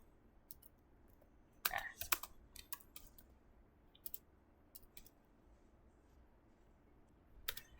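Quiet, irregular keystrokes as program code is typed on a computer keyboard, with scattered single clicks and short bursts of typing.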